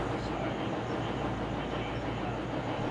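Inside a V/Line standard gauge N set passenger train of five carriages on a limited express to Melbourne Southern Cross, a steady, close rolling rumble fills the cabin without a break.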